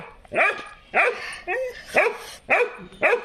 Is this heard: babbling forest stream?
no